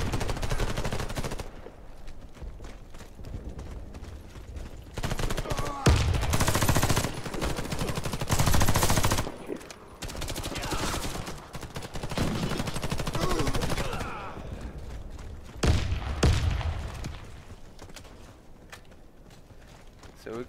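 Gunfire in a Warface multiplayer match on the Hangar map, including shotgun blasts, with loud, dense bursts and rapid shots continuing over the whole stretch while someone talks over the action.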